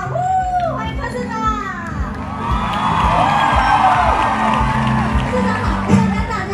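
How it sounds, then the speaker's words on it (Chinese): A large crowd cheers and whoops to welcome Taipei mayor Ko Wen-je onstage at a public event. The noise swells into a steady, loud roar, with voices calling out over it. "掌声欢迎我们市长来到现场"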